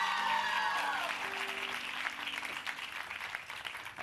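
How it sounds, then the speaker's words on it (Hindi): Studio audience applause on a Pakistani television talk show, a sustained wash of clapping that fades slowly, with sung or spoken voice tones layered over the start. "सलाम जिंदगी के लिए बहुत सारी तालियां होनी चाहिए।"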